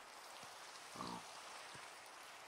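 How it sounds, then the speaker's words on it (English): Rain in the video game Lethal Company, a faint, even hiss of rainfall with a few soft knocks and a brief louder patch in the middle. "And it's raining."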